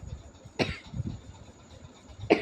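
During a Sanskrit exam-prep lecture, two short, sharp coughs break out a couple of seconds apart over a faint, quiet room background.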